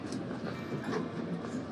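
Grand Canyon Railway passenger train running, heard from inside a first class car as a quiet, steady rumble with faint rail clatter throughout, no voices.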